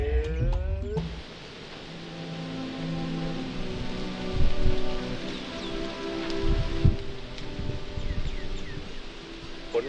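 Heavy rain pours down steadily and loudly in an outdoor scene, a dense continuous hiss that holds throughout with no voices.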